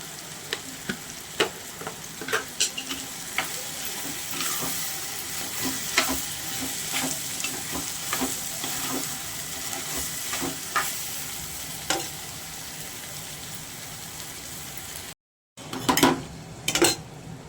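Ridge gourd curry stirred in a pan with salt and chili powder: repeated spoon scrapes and clinks over a constant sizzle, close up, running steadily without speech.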